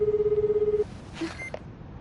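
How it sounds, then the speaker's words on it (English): A telephone rings with a rapid pulsing electronic tone for under a second, then cuts off, leaving quiet room tone with a faint beep in an anime scene. "Why isn't Nori answering his phone?"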